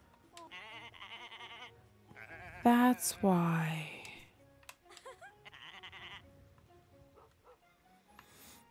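Sheep bleating in the video game Summer in Mara, several short wavering bleats near and loud, with one longer strained call midway, while a person talks over parts of it.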